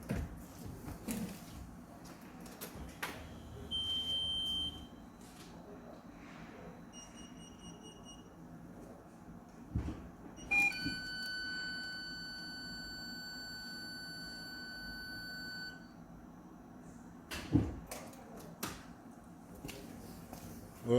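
Faulty parking sensor module from an Audi A3 1.8T emits steady beeping tones, quiet and close, with a long continuous high tone through the middle, amid clicks and handling noise and no talk.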